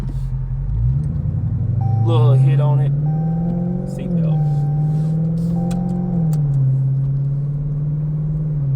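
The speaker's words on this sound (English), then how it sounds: "Everybody want to hear how the SLP mid pipe sound on the car." Ford F-150 pickup fitted with an SLP mid pipe exhaust, its engine rumbling throatily and loudly at close range with a few rising revs, while someone talks over it.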